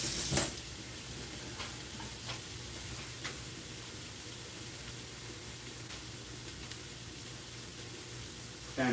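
Food sizzles in a frying pan with a steady, even hiss, broken by a few faint clicks and taps and no talking.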